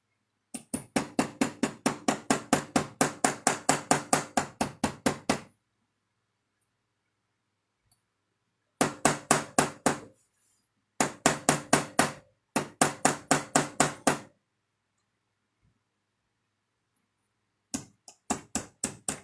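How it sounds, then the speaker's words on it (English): A nylon hammer tapping while making a tack pin, sharp rapid evenly spaced taps in bursts of a dozen or so, separated by silences, close and clear with no talk. "I'm going to grab my nylon hammer"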